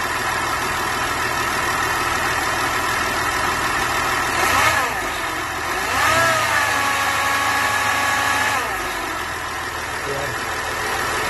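A Land Rover LR3 (Discovery 3) 2.7 TDV6 diesel engine runs at idle up close, rising in a few short revs that swell and settle back, with a voice speaking faintly at times.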